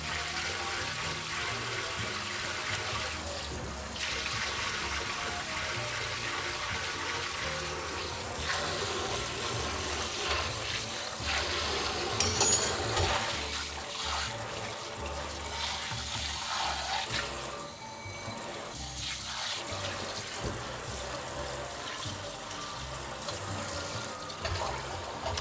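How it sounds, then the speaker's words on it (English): Tap water runs steadily into a kitchen sink for a long stretch, a continuous broadband rush with small splashy shifts in intensity, rinsing dark pancake batter down the drain; no talking over it. "I just want to wash it down the sink properly with enough water too"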